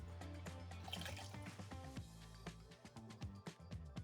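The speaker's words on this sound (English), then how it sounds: "Add a little water maybe." Water added to clay spinning on a pottery wheel while throwing a bowl: steady dripping and trickling liquid over a continuous low hum, with a few small clicks near the end and no talking.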